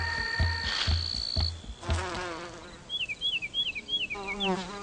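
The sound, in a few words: solitary bees buzzing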